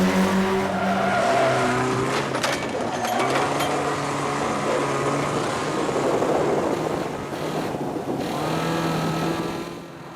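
A beat-up banger car races around a track, engine roaring loudly and steadily, with bursts of tyre squeal and skidding as it corners and keeps its speed up.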